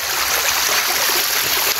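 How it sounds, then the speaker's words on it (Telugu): Stream water rushing steadily near a hidden waterfall above a tunnel at Chitvel, a continuous loud broadband wash with no pauses, heard alone without talk. "నీళ్ళు మాత్రం అద్భుతంగా పారుతున్నాయి ఇక్కడ నుంచి."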